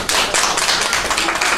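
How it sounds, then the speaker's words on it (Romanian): An audience at a municipal award ceremony for elderly residents in Mangalia claps loudly for an honoured 85-year-old woman, dense sustained applause that runs continuously and close. "Să aplaudăm pe doamna, să-i spun la mulți ani și multă sănătate,"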